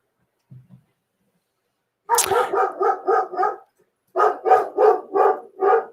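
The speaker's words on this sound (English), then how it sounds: "This dog, man. I swear, dogs will drive you crazy." A dog barks loudly and close in two rapid bursts of about six barks each, separated by a brief pause, with no speech.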